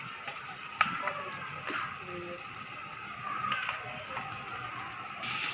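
Green chilies and rock salt sizzle in a pan as biryani cooking gets underway, a soft steady frying crackle with scattered clicks and stirring knocks of a utensil against the metal.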